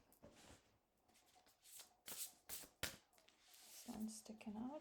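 Oracle cards drawn and handled from a deck, with quick papery slaps, flicks and shuffling rustles in close, uneven bursts, and soft talk near the end.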